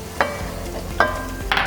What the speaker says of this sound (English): Next, I'm just going to add the garlic and the shallots into the frying pan.